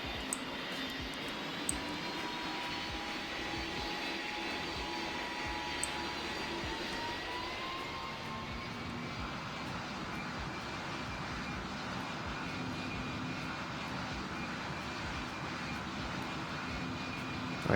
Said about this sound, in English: now we are ready for our takeoff roll